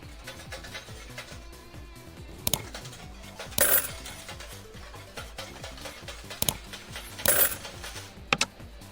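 Coins dropping from destroyed pegs in a peg-style video game, a run of bright metallic clinks arriving in small bursts over steady game music, with no talk.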